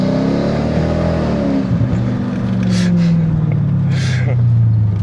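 A Mercedes E500 W211 with a V8 engine accelerates hard, its engine note rising and sweeping upward through the gears over five seconds, loud and continuous, with a brief dip at a shift.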